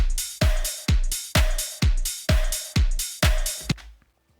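A programmed drum beat built in Ableton, with swung sixteenth-note hi-hats over a steady kick and snare pattern, repeats eight even, punchy hits before cutting to silence.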